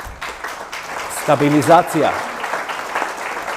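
Audience applause rises beneath a voice at a political address in North Macedonia. The clapping is steady and fairly close, with his speech continuing over it throughout.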